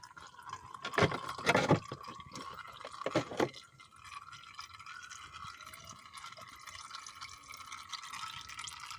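Engine oil drains from a VW Golf 4 1.4 16v during a service, a steady liquid trickle and drip running throughout, with a few louder splashy bursts near the start before settling into a continuous flow.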